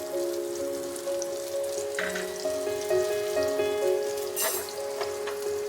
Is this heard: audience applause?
no